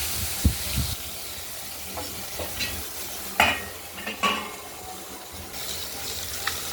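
Pieces of katla fish frying in hot oil give a steady low sizzle, broken by several sharp clinks and scrapes of a utensil against the pan.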